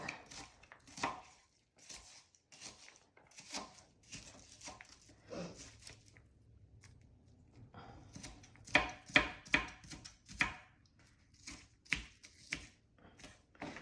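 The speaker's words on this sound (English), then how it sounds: "I usually don't cut onions this crazy, but I feel like I have to do it fast" Onions chopped fast with a knife on a board, bursts of rapid crisp taps with short pauses, the pace quickening near the end, close and clear.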